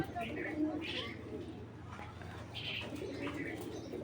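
A male Python breed pigeon coos in soft, repeated bursts close by, with light chirps over a low background hum.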